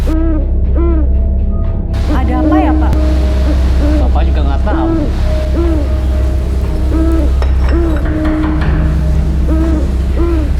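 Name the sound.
bence bird calling, owl-like hooting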